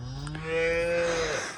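Young calves on an Australian farm moo in a single drawn-out, fairly close call with a rising then falling tone, heard alone without talk.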